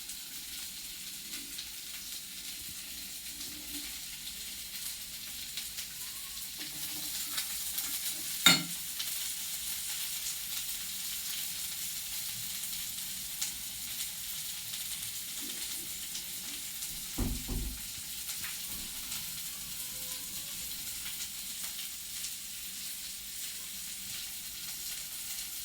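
Peanuts being sautéed with turmeric in a pan, a quiet, steady frying hiss with occasional stirring scrapes and a couple of brief louder clatters.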